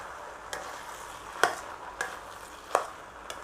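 Leftover fermented rice being stirred in a pan: a quiet low sizzle broken by four or five sharp spoon taps and scrapes against the metal, spaced about a second apart, close by with no voices.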